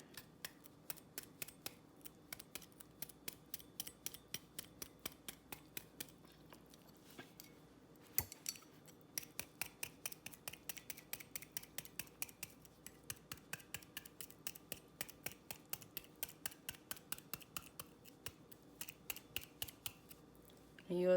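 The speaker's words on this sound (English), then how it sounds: "Poke all type of holes in the potato." A fork or utensil repeatedly poking holes in a raw potato in a kitchen, a long series of sharp, rhythmic little clicks at a steady pace with one brief pause partway through.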